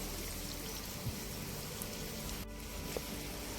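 Tomato juice pouring steadily for a few seconds, a thick continuous stream with a slight trickle near the end, close by and moderately quiet.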